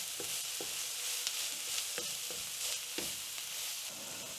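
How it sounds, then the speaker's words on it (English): Cooked onions and carrots are stirred into browned mince for bolognese over a steady, fairly quiet sizzle, with a handful of soft spoon scrapes and taps against the pan; no talking. "And we stir that in."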